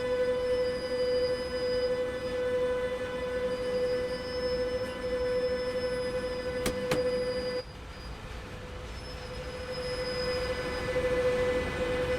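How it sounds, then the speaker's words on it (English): A BR 145 electric locomotive sets off while its brakes are still dragging. A steady, sustained metallic squeal rings loud and unbroken through the whole stretch, with a brief sharp click partway and a slight drop in level after it. "We still hear the brakes a bit"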